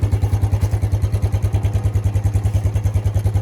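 A Suzuki ATV engine idles close by with a fast, even chugging pulse, steady and loud with no voices.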